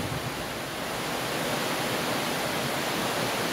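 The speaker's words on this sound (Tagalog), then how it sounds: "Umuulan na naman." Steady, dense hiss of rain pours continuously, close and even, with no voices or breaks.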